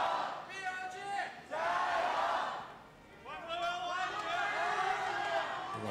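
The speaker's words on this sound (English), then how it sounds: "I love the crowd. They're ready for this game." Crowd at an LPL esports arena cheering before a match: a loud, sustained roar of many voices rising and falling in waves, with chanting tones swelling twice.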